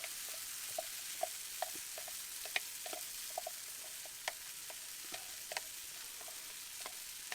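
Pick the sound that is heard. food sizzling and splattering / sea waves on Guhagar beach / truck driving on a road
food sizzling and splattering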